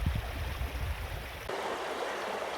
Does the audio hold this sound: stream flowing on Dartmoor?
yes